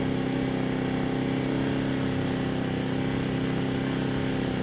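A Sportsman Series GEN3500I 3500 watt inverter generator runs at a steady, even drone with a low tonal hum, heard from roughly 43 feet away, unbroken and without talk.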